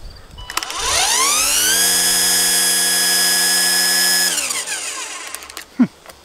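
A Ryobi Expand-It 40-volt lithium battery power tool spins up from a rising whine to a loud, steady high-pitched drone, holds for several seconds, then winds down, with a brief knock near the end.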